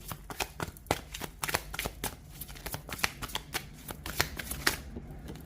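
Tarot cards shuffled by hand at close range, a rapid series of crisp riffles and slaps in a steady rhythm, no voices over them.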